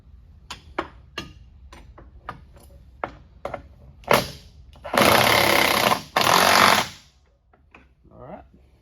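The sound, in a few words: impact gun tightening outboard motor bolts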